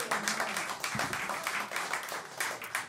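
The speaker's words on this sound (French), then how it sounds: "Mais on applaudit très fort Adrien." Audience applause at a French live stage show, dense steady clapping filling the room throughout, moderately loud with crowd noise mixed in.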